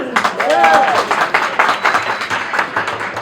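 Comedy club audience clapping in answer to the comedian, a brisk wave of applause from a small crowd, with a voice cutting in briefly over the claps.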